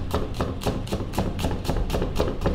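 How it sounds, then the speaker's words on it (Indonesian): Garlic cloves, five of them, being chopped on a board with a knife, a steady run of evenly spaced sharp chops, close and fairly loud, with no talking. "Bawang putih ada 5 siung. Kita akan geprek dan dicincang."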